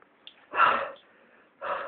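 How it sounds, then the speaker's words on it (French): A held-back sneeze after a pinch of pepper: a short stifled, breathy burst, followed by a second muffled sneezy exhale close to the listener, with small sniffs in between and no talking. "Il avait envie d'éternuer."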